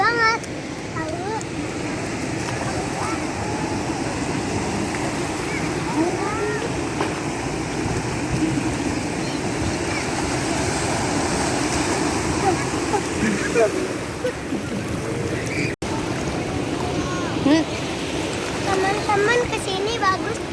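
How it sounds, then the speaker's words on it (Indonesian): Big ocean waves at Anyer beach, Indonesia, a constant rushing surf roar with swelling crashes, heard close and loud, with faint voices of people on the beach mixed in. "Ombaknya gede banget"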